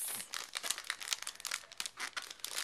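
Paper envelopes pulled out of a package, a quick run of close crinkling and rustling with irregular crackles, fairly soft and with no one talking.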